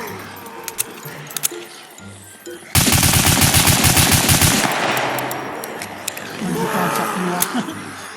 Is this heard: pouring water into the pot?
no